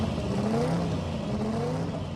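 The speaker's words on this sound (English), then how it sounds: "It has nothing in common with a normal Supra, using a custom-built chassis, composite body, air-shifted transmission and a twin-turbo Toyota V8 engine." Twin-turbo Toyota V8 in the HKS Supra pro drag car, a custom-chassis, composite-bodied racer with an air-shifted transmission, roars steadily at close range with rising engine harmonics and a dense, continuous mechanical din.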